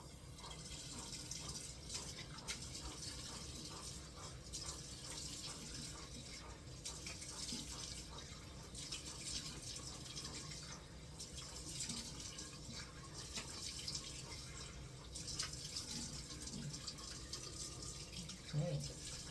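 A tap runs steadily into a sink while cleanser is rinsed off skin during an evening skincare routine, a continuous close water flow with small splashes and drips, and no talking.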